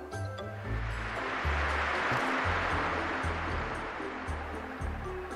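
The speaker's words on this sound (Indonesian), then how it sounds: "itu adalah bunyi ombak." Ocean waves wash in a broad, continuous roar of surf, swelling and rolling steadily with churning low rumbles beneath, loud and without voices.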